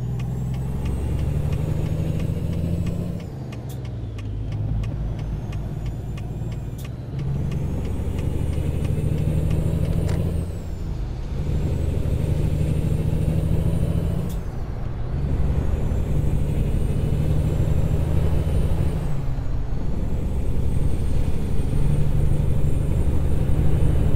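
Modded truck engine sound in American Truck Simulator: a loud, steady diesel rumble that rises through the gears and drops at each shift, with several clear gear-change dips and a faint whine on top, with no talking.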